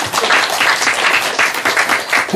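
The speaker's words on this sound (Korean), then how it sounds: "박수 한번 해주세요." A church congregation applauds during an afternoon sermon, a dense, loud burst of clapping that rises and falls in waves and continues throughout.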